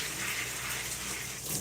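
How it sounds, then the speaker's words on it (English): Steady rush of running tap water splashing over hands during a rinse, continuous and close, with no voices. "Rinse my hands off."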